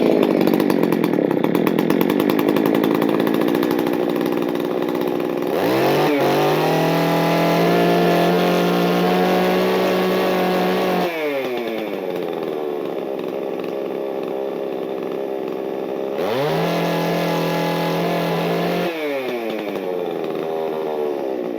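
A Husqvarna 266 chainsaw with its choke on fires up and runs loudly up close, revving in long high bursts that drop back and die between pulls, restarting several times.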